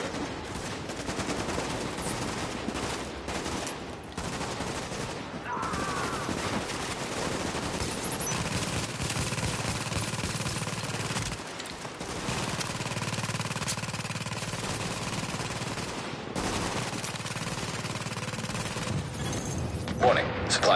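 Gunfire in The Division, sustained automatic weapon bursts and rattling shots running almost continuously through a fight, mixed with intermittent talk.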